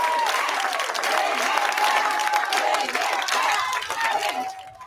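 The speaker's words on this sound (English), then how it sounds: "There was also some cheering inside this school when the superintendent got up to speak." A crowd at a school committee meeting applauds and cheers steadily and loudly inside the school, with the clapping tapering off at the end.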